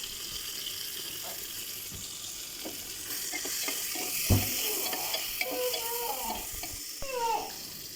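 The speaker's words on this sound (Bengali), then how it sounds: "প্রথমে তেল দিয়ে দিলাম সামান্য পরিমাণ, এরপরে তেজপাতা," A bay leaf fries in a small amount of oil inside a pressure cooker, giving a soft, faint sizzle with a few light clinks and stirring scrapes nearby.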